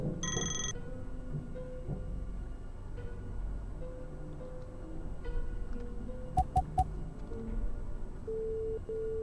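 Electronic phone tones and beeps sound in the horror game Play with Me, a short ringtone burst, then sustained tonal beeps and a few sharp clicks over a quiet, eerie background.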